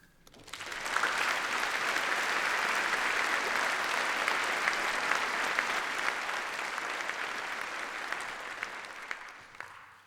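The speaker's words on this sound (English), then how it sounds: "join me in applauding your thanks to our staff" A large graduation ceremony audience applauds the university staff with sustained, even clapping that swells after a second, holds steady for several seconds and slowly tapers, with no talk over it.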